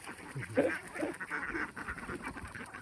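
Ducks, itik in the Philippines, seven months old, giving a few soft honking quacks at close range, faint and mixed with some background murmur.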